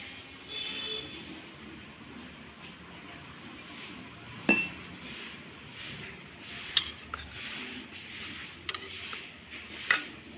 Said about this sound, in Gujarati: તો આ રીતે આપણી ચટણી સરસ મજાની મિક્સ થઈ જાય છે